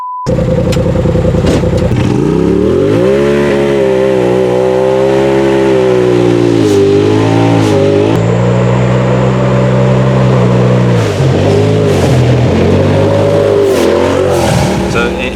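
A Polaris RZR UTV on big tires with portal gear lifts drives fast, its engine revving loudly and continuously with rising and falling pitch as it accelerates and shifts, close and dominant throughout.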